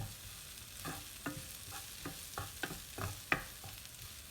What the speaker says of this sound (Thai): คั่วเลยครับคั่วให้หอมนะครับ ผัดนะครับให้หอม